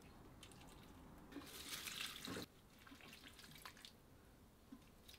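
Garden water splashes and trickles onto greenhouse plants, faint, with a stronger pouring burst in the middle before settling back to a light flow.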